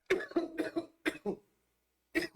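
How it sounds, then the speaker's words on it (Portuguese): A man coughs repeatedly while recording a spoken talk: a quick run of about six harsh, close bursts, a brief silence, then two more coughs, with no speech between them. "Desculpa, eu vou dar uma tossida aqui, vou ter que regravar."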